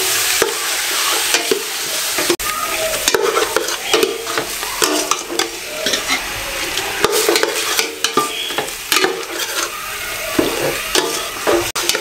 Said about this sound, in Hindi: इसको अच्छे तरीके से मैं भून लूँ, इसमें तकरीबन 3 से 4 मिनट इसकी भुनाई कर लें।